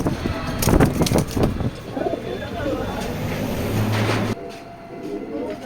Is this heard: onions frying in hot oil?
no